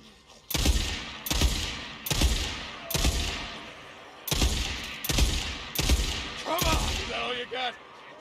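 Sniper rifle shots in the video game Days Gone, about eight loud, sharp reports spaced roughly a second apart, each with a ringing tail, under occasional talk.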